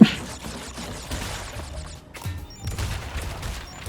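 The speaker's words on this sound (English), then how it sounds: "I'm just gonna shoot you" Gunfire in the Crash Bandicoot N. Sane Trilogy game: a rapid string of crackling shots near the start, then more scattered bursts after a brief lull, loud and close, with no voices.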